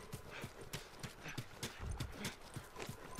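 Horse hooves in The Last of Us Remastered video game, a steady series of distinct clip-clop strikes at an even walking rhythm, fairly quiet and close, with no speech over it.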